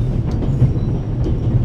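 A steady, loud rumbling roar of a train riding along in the video game The Raven, a continuous low drone without distinct rhythm and no speech over it.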